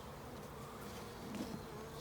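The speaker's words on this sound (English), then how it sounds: "there's some bees kind of hanging on to the bottom because they're drinking that" Honeybees from a package buzz steadily during spring hive installation, a close, continuous insect drone with a brief louder swell near the middle and no talking.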